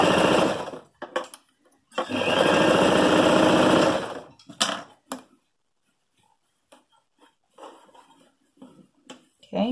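A sewing machine whirs in short bursts while backstitching a men's shirt sleeve, one longer run of steady stitching in the middle, then quieter intermittent clicks and handling noises.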